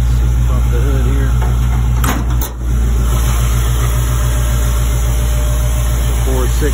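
A 1999 Crown Victoria-sourced Ford 4.6 fuel-injected V8 idles in a slammed 1969 Ford F100 patina hot rod, a steady low rumble running throughout under someone talking, with a brief dip midway.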